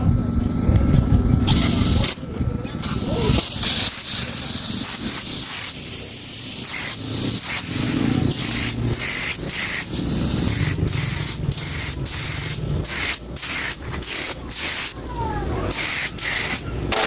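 A spray gun blasts Time Out top coat paint in a steady, loud hiss that runs almost without break, with a few short pauses and faint background noise.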